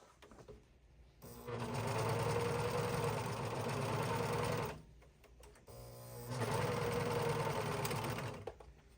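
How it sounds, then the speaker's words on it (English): A serger stitches around the edges of upcycled skinny jeans in two loud, steady motor bursts, each about three seconds long, with a short pause between them and no talk. "Then I'm going to take it to the serger and I'm going to serge all the way around like that."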